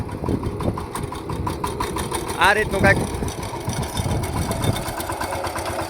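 A power tiller engine runs at a steady, rumbling idle-like chug as the machine is turned in a farm field. Someone talks over the continuous mid-pitched engine noise.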